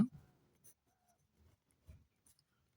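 Pen scratches on paper while an addition problem from a class 3 maths lesson is worked out, heard as a few faint, scattered strokes separated by quiet gaps.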